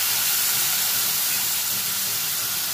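Spice paste in hot oil sizzles and hisses loudly and steadily just after a splash of water goes into the pan, a close, continuous frying roar with no talk.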